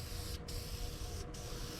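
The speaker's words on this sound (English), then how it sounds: "take your spray and do a nice" An aerosol spray paint can lays down a light first coat on a Pontiac Firebird, a steady close hiss that runs unbroken through the moment with two brief dips.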